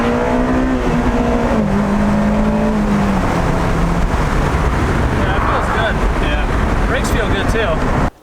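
An Acura RSX fitted with a hybrid shifter drives along, its engine note rising and settling through the gears beneath constant wind roar, ending abruptly.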